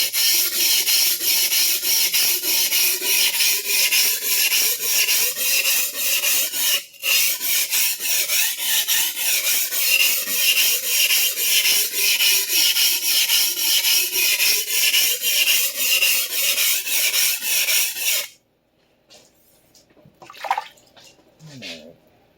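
A vintage Clyde Cutlery chef knife being sharpened, its edge ground into a bevel with loud, continuous rasping strokes for about eighteen seconds, then a pause and a few faint scrapes, with no talking.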